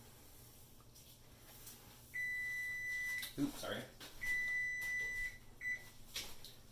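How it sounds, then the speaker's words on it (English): A kitchen timer beeps during soap making, sounding as two long steady tones of about a second each and a shorter third, moderately loud over a quiet room, with a brief apology spoken between them. "I had a timer going for my set."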